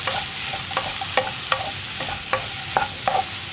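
Tomato curry stirred in a hot pan, a constant loud sizzle with repeated scraping strokes of a spoon at a steady rhythm.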